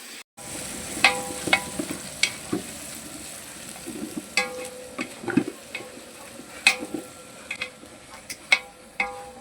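Ingredients for fish biryani roasting in a pan, heard as steady close sizzling broken by frequent clinks and scrapes of a spoon stirring against metal.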